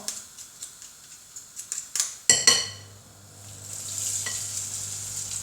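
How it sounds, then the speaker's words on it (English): Oil sizzles steadily in a round pan as falafel fries, after a few clinks and scrapes of utensils, a soft continuous hiss with no talking. "you probably can hear the sizzle in the oil"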